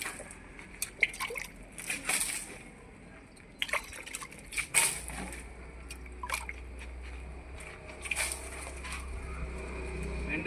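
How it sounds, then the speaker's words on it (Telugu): Water is splashed and dripped onto a Yamaha RX100 and a Honda motorcycle before washing, giving scattered nearby drips, sloshes and small splashes in irregular bursts over quiet outdoor background. "ఫస్ట్ వచ్చి బండి మీద నీళ్ళు చల్లుకోవాలి"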